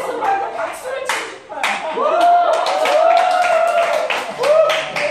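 A group at a junior camp in Kona, Hawaii, claps in quick, irregular bursts close by, while a voice talks loudly over the clapping.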